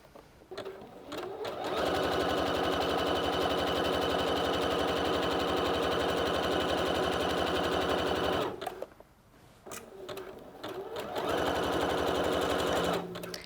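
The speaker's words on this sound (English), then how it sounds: "I'm ready to go with the zigzag stitch." A sewing machine runs a zigzag stitch through fabric, a loud steady whirring hum for several seconds, a brief pause, then another sustained run.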